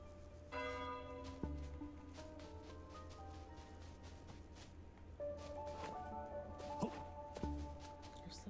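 Tolling bells from the video game Time on Frog Island, several resonant strikes that ring out and sustain over a faint game background, with no talk over them.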